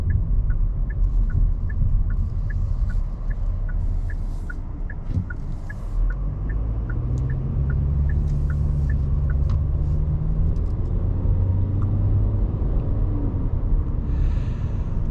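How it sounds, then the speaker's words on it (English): A 2025 Kia K4 with a CVT transmission drives along steadily, engine and road rumble continuous, the pitch rising and then dropping in stepped, simulated gear shifts, with a faint repeating chime above. "the CVT transmission does do a fairly decent job at simulating gear shifts, so it does sound like a more traditional transmission with gears"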